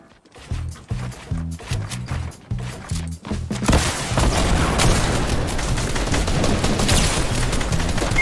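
Rapid bursts of gunfire from Fortnite, a staccato string of loud close shots in quick clusters that give way to a dense, continuous roar of shooting and noise.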